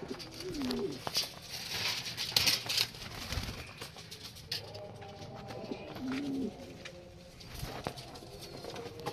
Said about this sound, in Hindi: ये देखिए गाइस ऊपर बैठे हुए कितने सुंदर सुंदर कितने प्यारे प्यारे पिजन्स हैं।